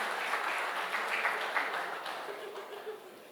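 Audience in a banquet hall claps in a soft, fairly distant wash of applause lasting a few seconds, with faint voices beneath.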